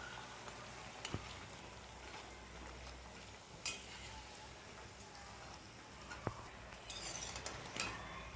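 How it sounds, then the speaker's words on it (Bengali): Potato pakoras fry in hot oil in a pan over a high flame, giving a faint, steady sizzling hiss broken by a few soft clicks and taps. "এখন গ্যাসটা জোর দিয়ে ভেজে নিচ্ছি"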